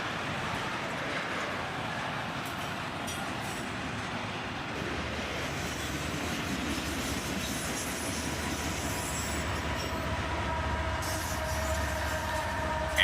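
A long BNSF auto-rack freight train rumbles steadily past nearby, its wheels clattering and occasionally squealing, with a constant low roar throughout.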